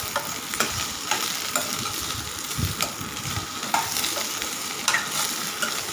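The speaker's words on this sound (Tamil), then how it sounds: "நல்லா வெண்டைக்காவை ஒரு ஃபைவ் மினிட்ஸ் வந்து நல்லா வதக்கி விட்டுக்கோங்க" Okra sautéing in hot oil, a continuous close sizzle with regular scraping strokes of a spatula stirring the pan, no voices.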